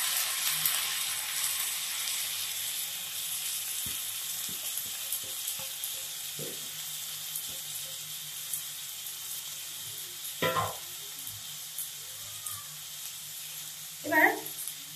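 Rice fries in a pan with ginger, garlic, onion and spices, a soft steady sizzle under occasional spoon scrapes and stirring clatters, with a couple of sharper knocks near the end.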